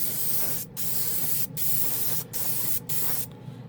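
Steady, loud airbrush hissing in four bursts with short pauses between, each a continuous broadband spray of 2K paint, with no voices.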